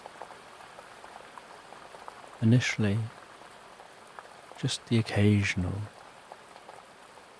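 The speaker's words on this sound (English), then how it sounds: "You hear that rain arrive and see the rain striking the water." Rain falls onto the water of a loch seen through old ruins, a soft steady patter and hiss running the whole time beneath two short stretches of calm speech.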